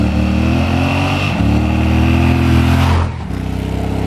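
A 2017 Yamaha XTZ1200 Super Tenere 1200cc parallel-twin motorcycle engine runs close and loud with a throbbing idle that rises in a rev, then drops sharply before settling back to idle. No one speaks.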